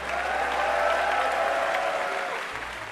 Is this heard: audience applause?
yes